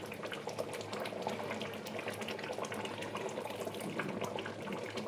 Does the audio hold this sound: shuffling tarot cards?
no